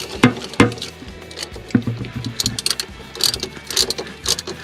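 A ratchet with a deep well socket clicks in short, uneven bursts while working on a 2004 Buick LeSabre heater hose elbow, close and crisp with irregular pauses between strokes.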